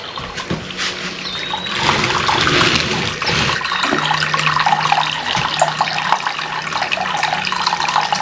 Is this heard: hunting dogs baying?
no